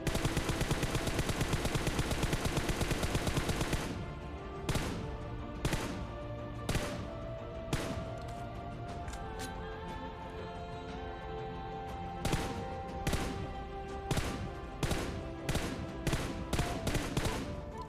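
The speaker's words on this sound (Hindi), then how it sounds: "लेफ़्ट साइड से भी कुछ बंदे यहाँ पर फायरिंग दे रहे थे" Gunfire in a battle royale video game match, starting with a dense sustained burst of automatic fire, then a steady series of sharp separate shots and short volleys at regular intervals, loud and close with no talking.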